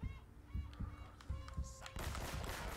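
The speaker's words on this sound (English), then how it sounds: "Is that a fucking goose?" A goose honks several times in a row in the video game Uncharted: Drake's Fortune. The nasal calls come at irregular intervals over quiet game ambience, and a denser burst of noise rises near the end.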